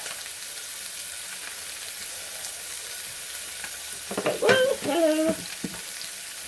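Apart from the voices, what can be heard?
butter and hazelnuts sizzling in a pan for salmon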